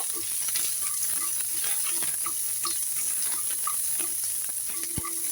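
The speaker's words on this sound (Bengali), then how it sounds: "পেঁয়াজটাকেও আমি ভাজা ভাজা করে নিব।" Onions sizzle steadily in a hot pan, with a constant bright frying hiss and occasional scraping and stirring clicks, with no talking.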